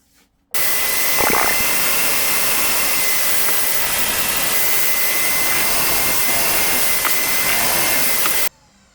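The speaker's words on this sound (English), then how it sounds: "So let's get them pocket holed and put together." Power drill boring pocket holes into wooden boards for a tall planter, one continuous loud high-speed whir lasting about eight seconds that starts and stops abruptly, close up with no talking.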